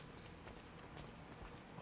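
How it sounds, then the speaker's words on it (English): Horse hooves clip-clop at a steady walking pace in the video game Ghost of Tsushima, faint and close, with light rhythmic thuds. "Oh, you're gonna give me a horse."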